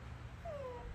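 A single soft, drawn-out meow from a cat, falling gently in pitch, faint and close in a quiet room.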